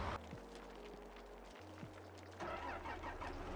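A vehicle in Farming Simulator 22 drives off, its low engine hum shifting pitch as it pulls away, quiet and steady with faint background noise.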